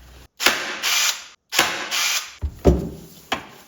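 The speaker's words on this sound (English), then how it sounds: "I'll pull it up there, put a staple in it." A staple gun fires repeatedly into upholstery fabric on a homemade rat rod T-bucket go-kart seat, giving several sharp close clacks with short mechanical rasps between them.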